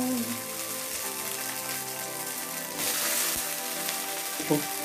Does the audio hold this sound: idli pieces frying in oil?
yes